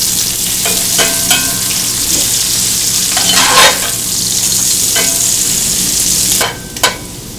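Jalapeños and garlic fry in a hot pan with a loud, steady sizzling hiss throughout, punctuated by several scraping stirs and clinks of a utensil, dropping slightly near the end.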